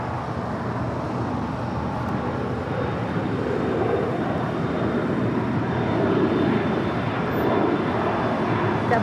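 A jet airliner taking off from runway 25 right at LAX, a steady broadband engine roar holding strong and building slightly as it climbs away, with no talk over it.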